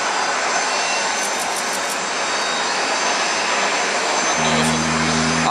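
A jet engine on an Airbus A380-841 runs up during start, a loud continuous broadband roar with a high whine, joined near the end by a lower steady hum.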